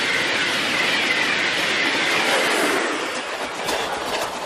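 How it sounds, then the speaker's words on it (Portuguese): A train runs along rails on a Brazilian line, making a loud, continuous rushing roar. Near the end a faint clickety-clack and a thin squeal rise out of it, with no talking. "Na velocidade do trem-bala."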